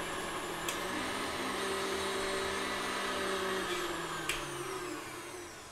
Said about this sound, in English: I'm gonna go on high, and it's gonna take 2 to 3 minutes to really get this butter whipped